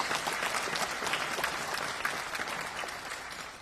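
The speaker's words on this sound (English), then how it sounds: "Now let's have a good round of applause for all these folks." Steady round of applause from an indoor audience at a county planning and building department meeting held at Century Village, dense and continuous clapping throughout, moderately loud.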